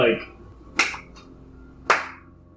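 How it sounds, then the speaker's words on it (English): Two sharp, separate hand claps about a second apart, loud and near, with a long gap between them like a deliberate slow clap; a faint voice at the very start. "Slow clap."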